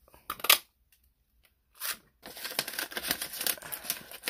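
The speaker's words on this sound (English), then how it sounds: "let's cut" Scissors snip through vellum cardstock in short bursts, a brief cut, a pause of silence, another snip, then a longer run of crisp crinkly cutting, close and clear.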